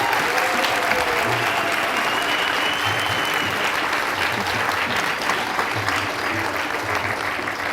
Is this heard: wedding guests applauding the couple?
yes